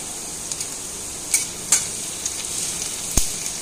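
Chopped ginger, garlic and dried red chilies fry in oil for aloo kachori, giving a bright, continuous sizzle up close, broken by a few sharp metallic taps.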